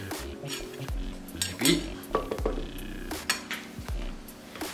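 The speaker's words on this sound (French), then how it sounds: "On va mélanger encore une minute" Quiet stirring and mixing in a pot, a utensil scraping and clinking against the metal in an irregular rhythm, with a few soft words spoken between the sounds.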